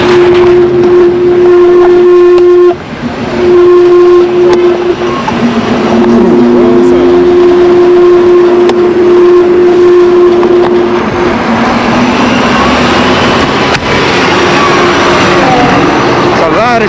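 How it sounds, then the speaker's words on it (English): Traffic on a busy city avenue heard from a moving electric bike, a loud mix of engine rumble and passing vehicles with a long sustained horn-like tone and scattered clatter, while someone talks throughout. "A lot of traffic down here."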